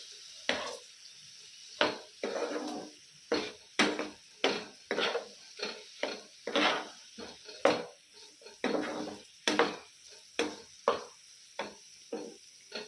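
A spoon scrapes and knocks repeatedly as chicken pieces are mixed with spices in a pan for chicken fry, steady close clattering strokes over a faint sizzle.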